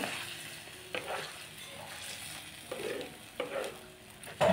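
Chicken sizzles in a hot pan for a Malvani-style curry while a spoon stirs and scrapes in a few separate bursts, close and moderately loud.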